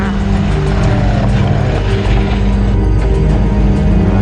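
Loud, steady engine drone from Jannie and Pieter Visser's special SP bakkie rally vehicle at the Kameel 200 rally, a continuous low rumble holding close and even throughout.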